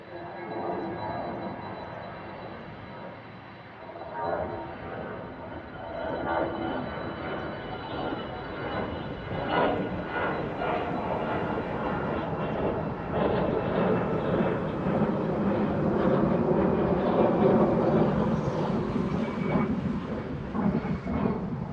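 A jet airliner taking off at Frankfurt Airport roars steadily in the distance, its broad engine rumble building over about twenty seconds with no talk.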